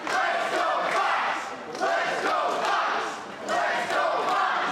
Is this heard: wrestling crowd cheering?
yes